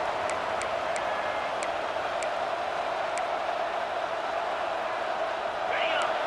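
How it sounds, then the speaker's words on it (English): Stadium crowd in the video game EA Sports College Football 26 roars as a steady, dense wash of cheering and noise, loud and continuous throughout, with faint whistle-like ticks and a brief rising whoop near the end. "This crowd bringing the energy and noise early."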